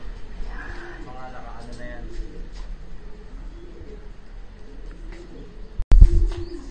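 Pigeons coo softly in a loft housing young stock birds and hens, steady low calls in the background under someone speaking throughout, ending in a sudden loud knock or clatter close by.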